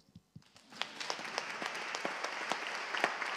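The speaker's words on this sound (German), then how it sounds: "Ein kleiner Applaus." An audience at an award ceremony breaks into applause that swells quickly into steady, dense clapping from many hands, heard from a moderate distance after a few isolated claps.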